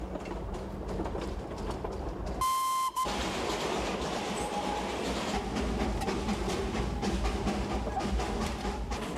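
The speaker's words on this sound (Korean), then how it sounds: "농부들은 칙폭대는 열차 소리에 일손을 멈추고 서서 살며시 눈길을 주기도 한다" A steam train chugs uphill on the Darjeeling line, a steady rhythmic rumble of wheels and engine, broken early on by a short, sharp high tone before the running noise resumes.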